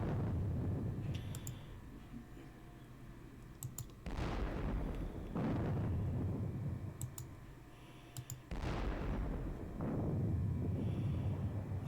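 Booming artillery fire from a Gettysburg wargame on the computer, three heavy broadband blasts each fading out over a second or two, with faint clicking between them.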